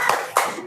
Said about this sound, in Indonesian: kita tepuk good job dulu untuk kelompok 2